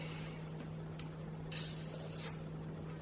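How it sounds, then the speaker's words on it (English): A short hiss of a spray bottle, two quick misty bursts over a steady background hum. "Setting spray."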